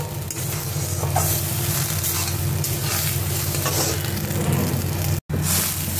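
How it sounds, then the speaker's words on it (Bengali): Black cumin seeds tempering in hot oil give a loud, continuous sizzle with stirring scrapes, close up, broken by a brief dropout near the end. "কালো জিরে ফোড়ন দিয়েছি"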